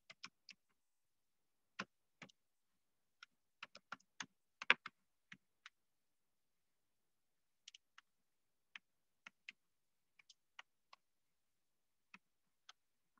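Computer keyboard keys tapped in scattered bursts as an email and password are entered, crisp close clicks separated by short pauses in an otherwise quiet room.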